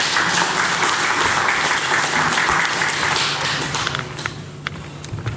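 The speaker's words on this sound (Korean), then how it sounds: "하나님께 영광의 박수 올려드립니다." A church congregation applauds during a Sunday worship service, dense steady clapping filling the room throughout and tapering slightly near the end, with no talking.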